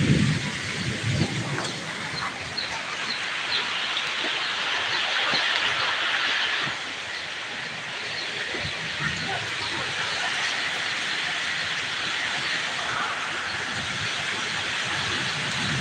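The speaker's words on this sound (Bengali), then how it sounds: "তো প্রচুর বৃষ্টি বাইরে, একেবারে প্রচুর অন্ধকার" Heavy rain pours steadily outdoors in Narsingdi, a dense continuous hiss that stays loud throughout, with brief voices and a few low rumbles beneath it.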